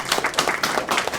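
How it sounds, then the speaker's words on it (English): Audience applause greeting game show contestants, a steady burst of clapping from a studio crowd lasting just over a second, fairly loud and even throughout. "Let's welcome our contestants with a round of applause."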